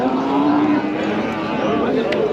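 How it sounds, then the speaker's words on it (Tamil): Kangayam calves at a cattle market in Kundarapalli, Krishnagiri, lowing with a loud, sustained moo that slides gently downward, close by amid market noise and voices in the background. "காங்கேயம் கன்றுகள் இருக்குது பாருங்கள்"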